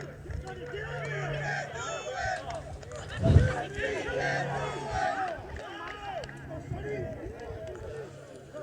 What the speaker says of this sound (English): Now the Patriots bench cheering for Josh Vasquez here.